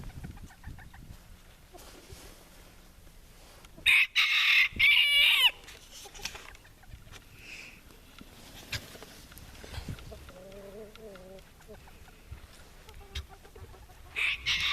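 A bantam rooster crows loudly once nearby, then bantam hens cluck in scattered bursts near the coop against a quiet background with soft voices.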